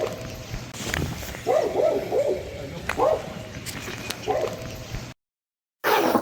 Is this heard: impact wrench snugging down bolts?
no